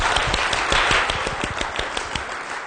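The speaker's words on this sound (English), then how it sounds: "what you just heard, is the TV clap" A small studio audience of about six people claps together in a steady burst of applause, the individual hand claps distinct and close, with no talking over it.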